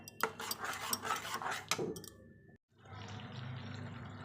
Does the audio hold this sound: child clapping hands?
no